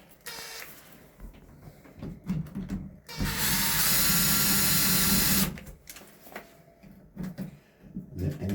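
While a door handle is installed, a power driver runs screws in with a loud, sustained whirring burst of a couple of seconds, surrounded by quieter scattered clicks and handling noises close by.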